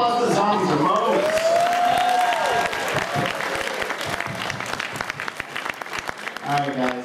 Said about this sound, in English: Round of applause for the zombies